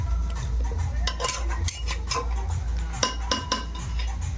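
Mutton is stirred in a pressure cooker, with a utensil clinking and scraping against the metal pot in irregular taps over a low, steady background hum.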